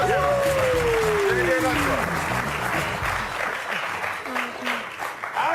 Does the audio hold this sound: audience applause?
yes